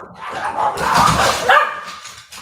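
A dog barks and yips excitedly at close range, a loud continuous run of barking with a sharper peak toward the middle.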